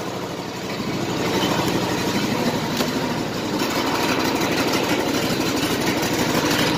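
An engine with an electric choke idles steadily and close by after starting, a constant mid-pitched running drone with no talk.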